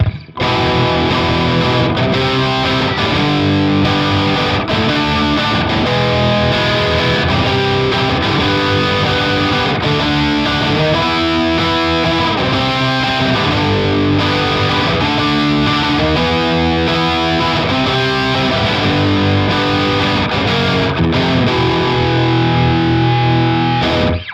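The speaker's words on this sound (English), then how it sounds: "Really thick, dark, perfect distortion sounds, Peavey on Peavey action" Loud electric guitar, a 1980 Peavey T-60 on its bridge pickup through a Peavey amp, with heavy distortion playing thick, dark chords and riffs continuously, no voices.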